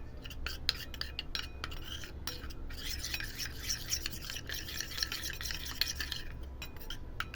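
A papaya face pack mixed with curd, vitamin E and honey being stirred in a bowl: a steady, close scraping and rubbing that continues without pause and with no talking.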